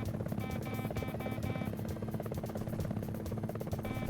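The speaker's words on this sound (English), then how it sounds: "Enemy chopper. Incoming left." Enemy helicopter in a PS1 game, a steady close rotor buzz with rapid regular beating pulses, droning throughout with some faint tonal beeps layered over it.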